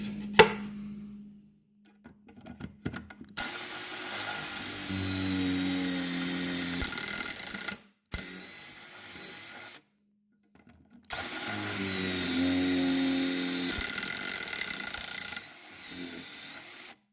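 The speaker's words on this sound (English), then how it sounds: "got my pocket holes drilled" A power drill bores pocket holes into wood for a DIY sofa shelf, running in two long, steady whining bursts separated by a brief pause, close and loud with no talking.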